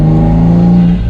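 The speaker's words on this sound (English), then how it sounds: "So cruising at 47 miles an hour off the gas" A Toyota Supra A90 engine drones steadily while cruising off the throttle in sport mode at about 47 mph, a loud, even low hum with a sustained tone that eases slightly near the end.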